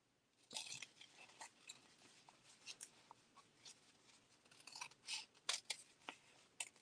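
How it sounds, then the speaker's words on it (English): Scissors snip and trim paper for junk journal snippet rolls, a run of crisp, close cuts and rustles at an irregular rhythm, quiet overall with no talking. "So I'm going to trim this one down, the paper off of it."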